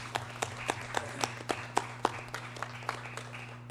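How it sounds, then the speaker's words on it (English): A small audience claps sparsely at a corporate gathering honoring a former chairman: scattered, uneven claps with distinct individual hand strikes over a steady electrical hum, fairly quiet and fading after a few seconds. "So let's give him a round of applause."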